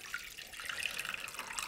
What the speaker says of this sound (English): I want to add enough liquid, which is just water